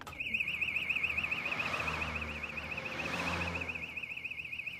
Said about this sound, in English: the alarm bell's going off